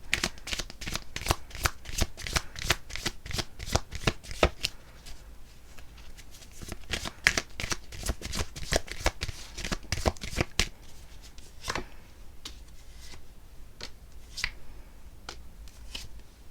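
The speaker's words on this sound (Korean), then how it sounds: "그래서 제가 추가 카드를 한번 뽑아볼게요." Tarot cards shuffled by hand to draw an extra card, quiet, close, rapid riffles and snaps, dense at first and then more spaced out, with no talk.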